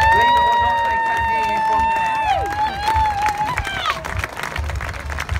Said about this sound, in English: Ladies and gentlemen, please give them a big cheer.